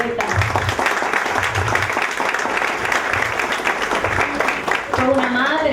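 Steady applause from a crowd, continuing while a voice speaks over it.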